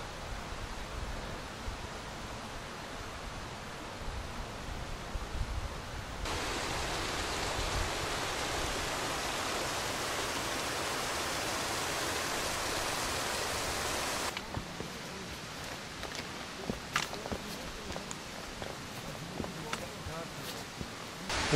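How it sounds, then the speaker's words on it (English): Waterfall on a Lake District hiking path below Stickle Tarn, a continuous rushing hiss that grows louder and closer midway, then eases back, with footsteps and small knocks in the later part. "people love the waterfall"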